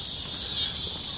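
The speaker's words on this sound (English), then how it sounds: "Lots of cicadas out tonight." Cicadas drone at night outdoors in a continuous high, dense buzzing chorus that stays loud and steady throughout, with no pauses.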